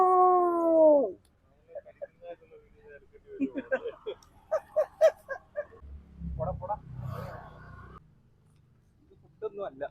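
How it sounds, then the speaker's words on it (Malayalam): Dogs gather around someone outdoors, with one loud, drawn-out howl near the start, then scattered whimpers and short yelps mixed with muffled rustling and low rumbling handling noise close to the recorder. "എനിക്ക് ചുറ്റും പട്ടികൾ."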